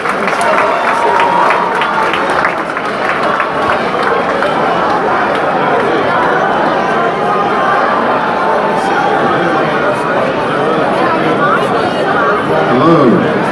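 A large audience at the close of a political debate at Politicon 2017 keeps up sustained applause mixed with crowd chatter and cheering, loud and continuous, with voices talking through it.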